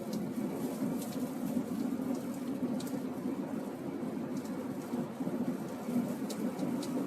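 A thunderstorm with heavy rain and strong damaging winds in Kansas roars steadily, with dense rain hiss over a constant low rumble and occasional sharper gusts, no speech.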